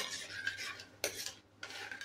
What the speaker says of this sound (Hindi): अब फुल मीडियम कर लेंगे हम इसे, फुल फ्लेम कर लेंगे और इसका थोड़ा मसाला भून लेंगे।